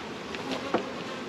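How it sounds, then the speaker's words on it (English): Honeybees buzzing inside an opened hive box with little drawn comb, a close, steady low drone with a couple of brief louder passes of bees near the ear. "Yeah, there's bees"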